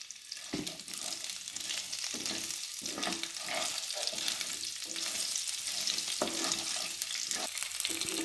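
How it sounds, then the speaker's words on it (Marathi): Chopped onions sauté in a pan with a steady, close sizzle, broken by regular scraping strokes of a spatula stirring every second or so, with no talking. "यामध्ये आता हे चिरलेले कांदे टाकून आपण दोन मिनिटे परतून घेणार आहोत"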